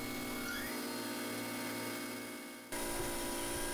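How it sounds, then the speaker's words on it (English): A drill bores holes through a metal blaster part on a CNC machine, giving a steady, loud mechanical whine that drops briefly and then resumes at a higher, harsher pitch. "So now we switch to the drill, and this is actually going to drill the holes"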